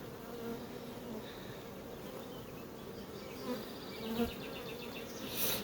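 Honeybees buzzing densely around hive frames and supers, a continuous drone of many insects close by, swelling slightly near the end.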